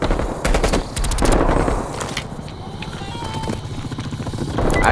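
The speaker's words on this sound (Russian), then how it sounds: "Это пила, вижу цели, начинаю атаку." Rapid bursts of heavy machine-gun fire from an attack helicopter in Call of Duty Black Ops Cold War rattle close by over the helicopter's whir, with short pauses between volleys.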